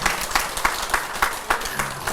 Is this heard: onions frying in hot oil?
no